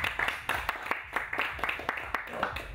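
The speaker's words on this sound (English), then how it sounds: "big round of applause for him, please." A gathering at an open source food talk claps for a speaker, with distinct sharp hand claps in a loose, uneven rhythm from a small group, each clap standing out clearly rather than blending into a wash.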